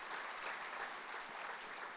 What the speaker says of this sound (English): Ladies and gentlemen, please give a round of applause to our guest.